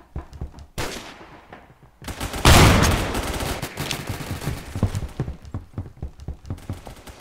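Gunfire in the Phantom Forces shooter game: loud shotgun blasts, then a dense burst of rapid shots, then repeated sharp single shots in an uneven rhythm, all close and prominent.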